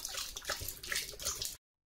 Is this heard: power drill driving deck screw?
no